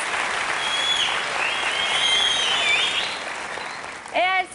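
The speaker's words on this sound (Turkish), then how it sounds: "Metin Öztürk yönetimindeki orkestramıza alkışlarınız." Audience applause for an orchestra at a televised Turkish music show, steady dense clapping from a large crowd that fades slightly near the end.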